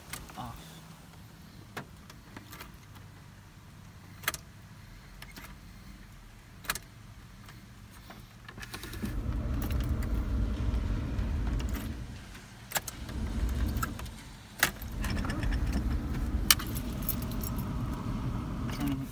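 An ignition key clicks and jangles in a 1993 Chevrolet S10 that will not start, with sharp ticks followed by a low electrical hum and rumble that rises and falls as the key is turned on and off.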